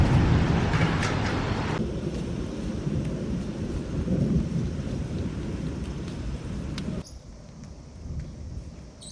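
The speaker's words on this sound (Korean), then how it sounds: "저기는 맑은데 여기는 아직도 비가 옵니다." Steady rain pours down outdoors, a dense continuous wash with low rumbling thunder beneath it; the downpour drops abruptly in level near the end and continues more softly.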